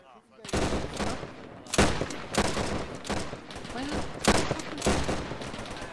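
Rapid rifle fire from soldiers in trenches in the video game Arma, during Durham Light Infantry Sicily campaign training: dense, overlapping volleys of loud gunshots, continuous and sustained, with faint voices underneath.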